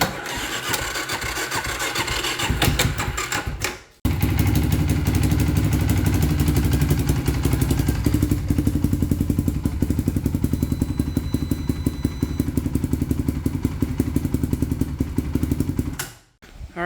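A restored sports quad's engine starts, cuts out briefly and restarts, then runs at a rough, uneven idle with a rapid clattering beat, close and loud.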